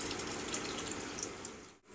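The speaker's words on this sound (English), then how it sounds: "we're just going to pour a little bit more water in here so it covers the lid" Water pours steadily into a canning pot holding jars, a continuous splashing rush that cuts off abruptly near the end.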